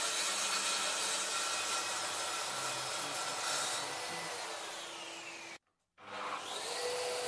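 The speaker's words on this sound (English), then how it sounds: "Here you can see just how smooth and controlled the plunge action is." A Mafell MT55cc plunge saw runs in a steady loud whine while making a plunge cut through wood, cutting out abruptly for a split second near the end before spinning back up.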